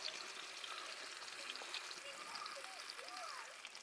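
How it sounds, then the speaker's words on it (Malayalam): Tandoori chicken pan-frying in hot oil on a stovetop, giving a steady broadband sizzle and crackle that runs through the whole stretch, with a few faint tonal squeaks riding above it and no talk. "എണ്ണ ചൂടായിട്ടുണ്ട് നമുക്ക് രണ്ടാമത്തത് ഇട്ട് കൊടുക്കാം"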